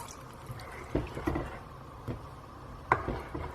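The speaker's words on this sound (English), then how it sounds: "I'm going to add a bit more water." Water poured into a pot of potato gravy on the stove: a few soft splashing pours and drips, close and fairly quiet, with no voices.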